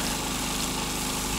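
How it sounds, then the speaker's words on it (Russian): An angle grinder runs during bathhouse renovation work, a loud, continuous, unbroken mechanical roar and whir close by with no talking. "Что-то Андрюха забрал у него шлифмашину, болгарку, и все."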